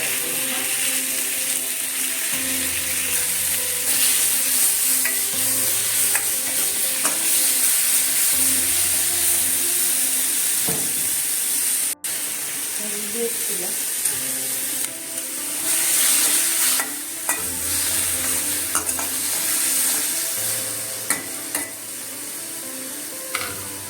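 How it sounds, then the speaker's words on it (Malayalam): Tomatoes and small onions sauté in coconut oil with popped mustard seeds for a chicken curry, giving a loud, steady sizzle broken by repeated scraping stirs of the spatula in the pan. "ടൊമാറ്റോ ഒക്കെ നന്നായിട്ട് വഴണ്ടു"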